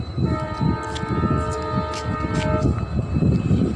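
A Tambaram–Sengottai passenger train at a station in Tamil Nadu sounds a long, loud, sustained horn over the rumble and clatter of the cars rolling by nearby.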